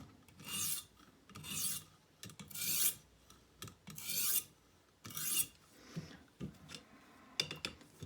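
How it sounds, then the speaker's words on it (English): Green River mountain man knife blade drawn across a sharpening stone in light cleanup strokes to remove a burr, about ten short, close rasping swipes at an irregular pace, with no talk. "so now we'll clean that burr off with a couple of cleanup strokes here"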